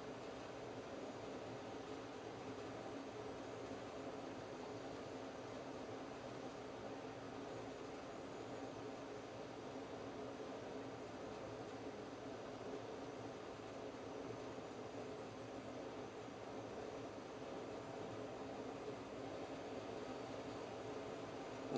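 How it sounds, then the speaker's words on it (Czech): A steady, low rushing roar of flue gas drawn through a stove by chimney draught continues unchanging for the whole stretch, faint and even, with no voices. "Na kamnech je slyšet, že opravdu ten průtok těch spalin je tam značný."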